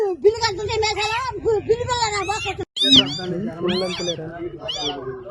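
A forest cat cub meows repeatedly in high, rising cries, close by, with people chattering around it and a brief silent gap midway.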